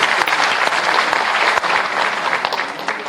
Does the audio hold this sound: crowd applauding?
yes